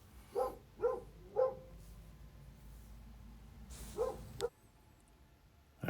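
A dog barks indoors in a quick run of three sharp barks, then falls quiet and gives two more barks before the sound cuts off into near silence.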